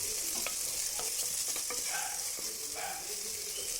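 A tomato rice mixture frying in a pan and being stirred, a steady hissing sizzle with scraping stirring strokes at irregular intervals, close and fairly loud with no talk.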